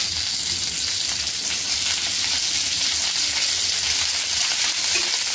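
Stuffed okra (bharli bhendi) sizzles steadily in hot oil, a dense, even crackle of frying that holds at a constant level throughout with no voices over it.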